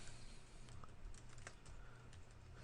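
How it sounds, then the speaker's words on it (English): Rapid, steady keystrokes on a computer keyboard as text is entered into a spreadsheet cell, faint and close, with no voices. "I'm going to type employee payroll"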